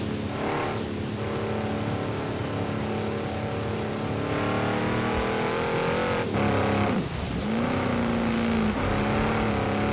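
A max-tuned Lamborghini Urus SUV in Forza Horizon 4 drives with a loud, steady engine drone that rises and dips through gear changes, with a sharp rev swoop midway and no voices.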